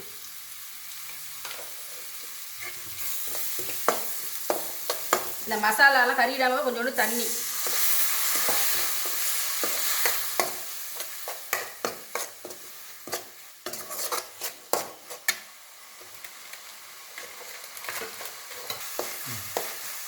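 Masala for cauliflower fry sizzling and being stirred in a hot pan, with scraping spoon strokes and clinks, while someone talks over the cooking.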